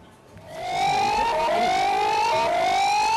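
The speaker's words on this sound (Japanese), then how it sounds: "津波警報を知らせるサイレンが鳴り" A tsunami warning siren in central Chile wails loudly and steadily after a brief quiet start, its tone sliding up and down, heard from a moderate distance after a magnitude 8.2 earthquake.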